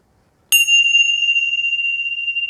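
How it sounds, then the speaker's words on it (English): A meditation bell is struck once, loud and clear, and its pure high tone rings on alone, decaying slowly with a gentle shimmer into stillness. "Wait for the last bell."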